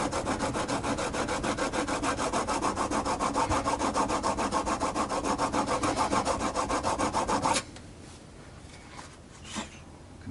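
A blade is drawn back and forth on a flat sharpener with a light touch, making a rapid, even rasping scrape for several seconds before stopping, followed by a few faint handling noises.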